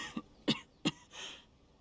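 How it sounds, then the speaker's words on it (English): A video game character coughs three times in short, sharp bursts, followed by a softer breathy throat-clearing sound, heard close and alone. "Cover your mouth when you cough"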